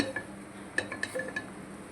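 A pressure cooker is set on a stove in a home kitchen while cooking chicken pulao, giving a few faint metallic clinks and taps spaced irregularly over a quiet background.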